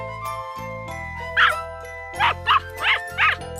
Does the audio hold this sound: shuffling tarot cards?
no